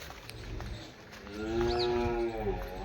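A cow gives a single drawn-out low moo in the second half, fairly close, at a family farmhouse, with faint background rustle and no talk before it.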